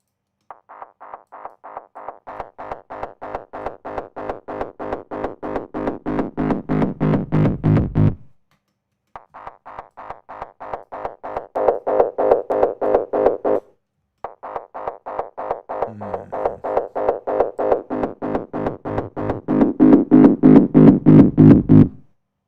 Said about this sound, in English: Let's try saturation.